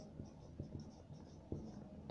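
A teacher writes on a board, soft scratching and tapping strokes in an irregular rhythm, faint and close, with no talking.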